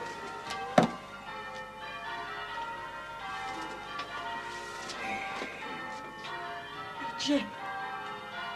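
Church bells ring at a distance, faint tolling tones hanging behind a quiet scene with a sharp knock near the start, and a person speaks briefly.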